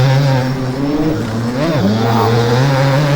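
A 2003 Suzuki RM 250 motocross bike engine in MX Bikes, a loud steady two-stroke drone with rising and falling revs, close and continuous, no voices.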